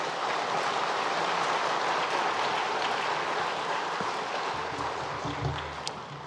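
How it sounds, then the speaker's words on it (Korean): A church congregation at a Korean Sunday worship service claps to welcome eight new members: a dense, even wash of applause from a large room that holds steady, then thins slightly near the end. "우리 큰 박수로 환영하겠습니다"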